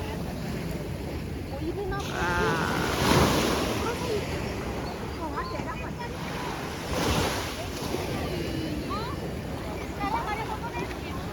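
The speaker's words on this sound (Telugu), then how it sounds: "ఇది క్రిస్టల్ బే బీచ్ అనమాట" Surf washes onto the black sand beach at Crystal Bay on Nusa Penida, a continuous roar of breaking waves with wind noise, building in surges, while a person talks nearby.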